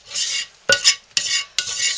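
A spatula scraping cooling homemade soap off the bottom of a pot, several loud gritty rasping strokes close up, separated by short pauses.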